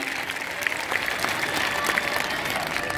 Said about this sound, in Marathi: जोरदार टाळ्या वाजवा, उत्कृष्ट हात उंच करून अभिनंदन करूया